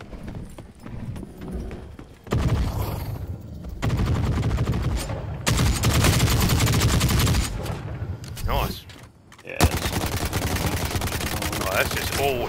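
Gunfire in The Cycle: Frontier video game, loud rapid shots and bursts in several stretches, close and dense, with an energetic game soundscape around them.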